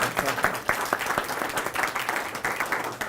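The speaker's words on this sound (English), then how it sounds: "please give Wendy and Reagan a round of applause" Applause from an audience at a government event where the governor thanks a tobacco settlement commission, a fairly thin crowd clapping steadily at moderate loudness with faint murmur beneath.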